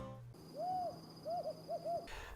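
A desert tawny owl calls at night, one drawn-out hoot followed by a quick series of shorter hoots, clear and fairly close over a quiet background.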